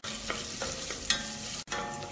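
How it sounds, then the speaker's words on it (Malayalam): Thinly sliced medium onion sautéing in hot oil for biryani, a dense sizzle broken by several spoon stirs and one sharp clink, with a brief dropout near the end; nobody speaks. "ഒരു മീഡിയം സൈസ് സവാള നേർത്തതായിട്ട് മുറിച്ച് ചേർക്കാം. ഇത് ഇളക്കി വഴിച്ചാം."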